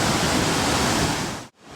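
A large waterfall pours from a dam spillway in the Hudson Valley, a loud, steady broadband roar of crashing water that cuts off abruptly near the end and then swells back.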